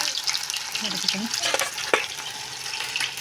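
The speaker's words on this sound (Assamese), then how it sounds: "আলু ভাজিব লৈছোঁ।" Potatoes frying in a pan, a steady close sizzling hiss with occasional stirring clatter and a voice speaking faintly over it.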